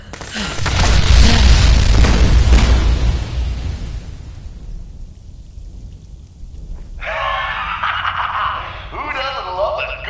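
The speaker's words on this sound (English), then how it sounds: "Who doesn't love a good explosion?" An explosion in the video game Fallout 4 erupts as a loud, rumbling boom that dies away over a few seconds and gives way to quieter game sounds.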